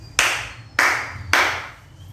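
Three sharp, separate hand claps, spaced about half a second apart, each one close and crisp with a short ring-off, in an otherwise quiet room with no speech.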